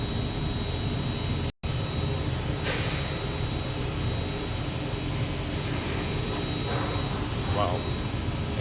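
A Mazak CNC machine cuts an impeller with negative angles, giving a steady, loud mechanical whine and hum under a constant high tone, with a brief dropout and a few faint cutting squeals.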